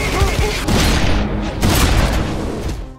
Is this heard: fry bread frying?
no